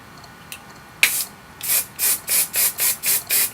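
Short bursts from an aerosol hairspray can hiss in a quick, even series of about seven pumps after a couple of clicks, close and loud.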